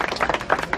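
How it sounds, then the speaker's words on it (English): An audience at a luau show at Disney's Aulani resort in Hawaii gives a round of applause, a close, uneven patter of many hands that swells and dips through the brief burst. "give yourselves a round of applause"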